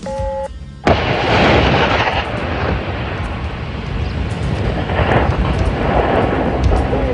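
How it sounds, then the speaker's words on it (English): An explosive detonates with a sudden loud blast after a brief quieter lead-in, followed by a sustained roaring, rumbling wash of debris and echo that stays loud to the end. "When it detonates, it just blows straight down."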